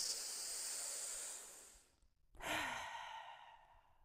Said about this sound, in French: Encore inspire. Relâche par la bouche.